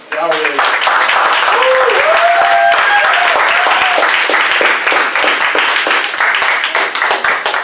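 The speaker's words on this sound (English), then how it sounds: "Please give a warm round of applause to Mr. Dowridge" An audience at a youth symposium gives the keynote speaker a warm round of applause, loud and continuous clapping with a brief voice or whistle rising over it early on, lasting the whole stretch.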